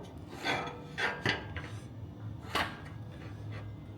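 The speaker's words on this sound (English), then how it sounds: "Now we slide the cross member in" Metal roof rack cross member sliding into place on a Fiat Ducato L3H2 van, heard as a few short scraping and rubbing strokes with light clunks, close and fairly quiet, with no talking.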